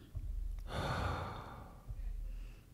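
A game character's long, deep exhale from Two Girls Make a Game, a soft breathy sigh rising and trailing off over about a second, followed by a quieter breath.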